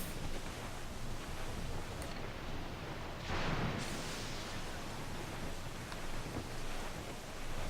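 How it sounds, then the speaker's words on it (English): Steady rain pours in Assassin's Creed IV: Black Flag aboard a pirate ship, a dense broadband hiss running unbroken throughout, with a brief louder surge midway. "This is some good rain effects."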